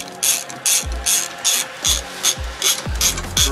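A ratchet wrench loosens the steering wheel center nut on a 1972 VW Beetle, giving about eight loud, close, rhythmic ratcheting strokes, each a crisp clicking burst followed by a dull knock.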